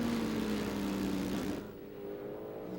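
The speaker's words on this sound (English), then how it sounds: "Great sound, too, to hear that car." A 1999 American Le Mans Series sports-prototype race car screams at full speed from the onboard camera at the Grand Prix of Atlanta, a loud sustained engine note that suddenly drops away as the driver lifts off.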